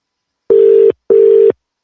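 A telephone ringback tone on a call sounds twice, each steady electronic burst lasting under half a second with a short gap between, loud and clear with nothing else audible.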